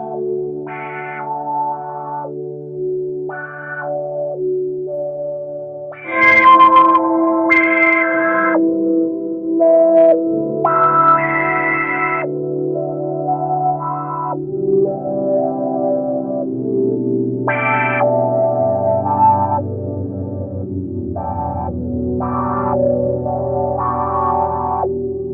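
A guitar runs through a Strymon Nightsky time-warped reverb pedal with only the wet signal heard. Washy, shimmering reverb tails swell and sustain with chorus-like motion, and sustained tones drift and layer over about twenty-five seconds without pause. The sound is loud and alone.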